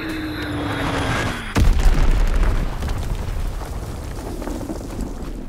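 An enemy bomb explodes in an Xbox One shooter game: a sudden loud boom cuts through a hum, then rumbles and decays into a lingering crackling roar.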